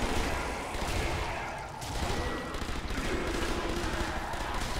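In Nazi Zombie Army, gunfire rattles steadily and loudly throughout a wartime zombie fight, with dense rapid shots layered over game noise.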